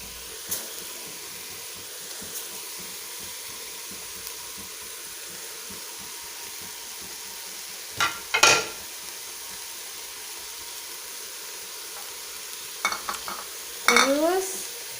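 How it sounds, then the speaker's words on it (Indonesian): Tofu and tempeh cooking in a pan for Javanese bacem, giving a faint steady sizzle and hiss, broken by two brief clattering bursts of stirring near the end. "Sekarang tahunya, tahu dan tempenya kita masukkan."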